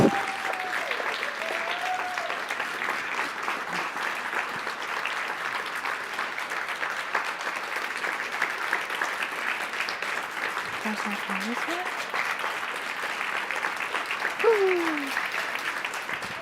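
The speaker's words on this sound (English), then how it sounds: "we'd like to have a last final round of applause for our speakers" A high school TEDx youth event audience gives a final round of applause for its speakers, sustained even clapping filling the whole stretch with a few faint voices and cheers over it.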